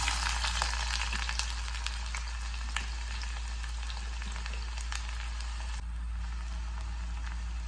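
Onions sizzling in hot ghee with cloves, cinnamon and cardamom for a mutton curry, a steady dense crackle from close by with occasional sharper pops and a low constant hum beneath, no voices.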